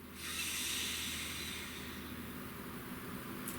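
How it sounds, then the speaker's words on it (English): A single long, deep breath drawn in slowly and steadily, a soft airy hiss that swells and then holds for several seconds, close and quiet, with no talking, during a calm guided new moon meditation. "Please take a nice deep breath"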